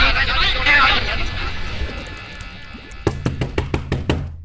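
A door is knocked on in a rapid series of about seven sharp, loud raps after a stretch of noisy background with voices.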